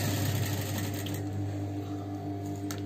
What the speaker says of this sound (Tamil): நாம் இந்த மாதிரி வச்சு தையல் போட்டுக்கிறோம்